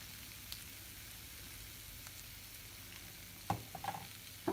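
A frying mixture for Iraqi kleicha is stirred continuously in a pan, a faint, even sizzle with a few sharp scraping and clinking utensil strokes toward the end.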